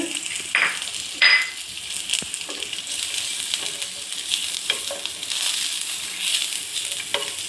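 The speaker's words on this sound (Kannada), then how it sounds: "ಈ ಥರ ಫ್ರೈ ಮಾಡಬೇಕು ರೀ ಇದನ್ನು" Wheat huggi frying in ghee over a low gas flame gives a soft, steady sizzle, broken by occasional scraping and stirring clinks of a spoon against the pan, close and moderately quiet.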